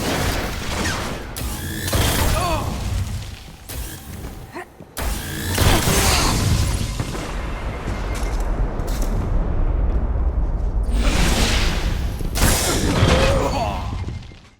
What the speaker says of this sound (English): Next up is the fusion rifle, the Branded Lord, and it puts its own little flavor on the sound of a fusion rifle.